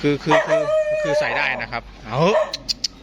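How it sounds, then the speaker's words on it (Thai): A dog barks and yips in short bursts near a small 150cc motorbike, mixed with someone talking over it. "เอ๊จะเห่าทำไมนี่"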